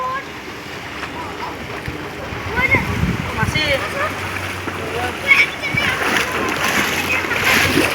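Children splashing and sloshing in floodwater in bursts over steady heavy rain and flowing water, with people talking in the background.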